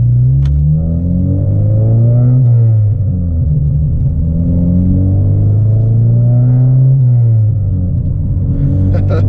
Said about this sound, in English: This is my first time driving a modded K series. Man, this thing has growl.